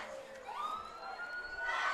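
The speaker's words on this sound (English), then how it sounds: "Police sirens, or some sort of sirens have started in the middle of the play." Police siren wailing in rising and falling sweeps during a high school football game, heard faintly from a distance over crowd ambience.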